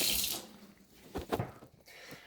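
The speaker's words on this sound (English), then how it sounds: "To check this, you would turn on the water" Water running from a kitchen sink tap during a dishwasher check, a steady rush that fades, then swells again in short splashy bursts, with no talking.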